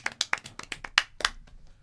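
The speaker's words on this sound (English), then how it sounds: "Round of applause for Carter." A short burst of hand clapping, a handful of sharp claps in quick uneven rhythm, close and fairly loud.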